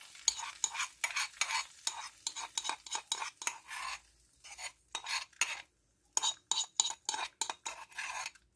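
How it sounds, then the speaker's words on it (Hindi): A spoon stirs hot tadka tempering into a bowl of yogurt raita, giving a quick rhythmic run of scraping clinks with a couple of brief pauses. Nobody speaks. "अब हम रायते में ये तड़का ऐड कर रहे हैं।"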